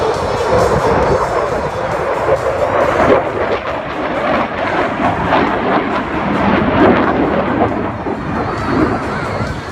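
Jet aircraft flying an aileron roll at the 2019 Bournemouth Air Show, a loud, continuous roar that rumbles steadily throughout, with no speech.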